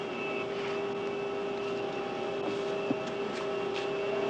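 A small propeller plane drones steadily in flight, with a constant engine hum and cabin rumble carrying through the whole stretch, no voices.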